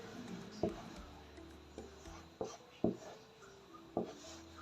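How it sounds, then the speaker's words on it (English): Soft scratchy strokes of a line being marked straight down Ankara fabric along a tape rule, a few faint rubbing passes with brief louder scrapes, close and quiet in a still room. "Just drawing the line straight down."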